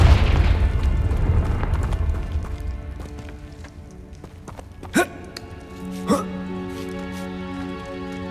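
A Confringo fire spell explodes in Hogwarts Legacy, two short sharp blasts about a second apart, the first louder, following a low rumbling stretch with a faint voice.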